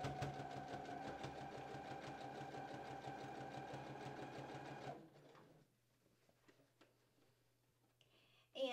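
Sewing machine stitching a dress seam, a fast steady mechanical whir for about five seconds, then it stops, leaving faint handling noises and a low hum before a brief clatter at the end.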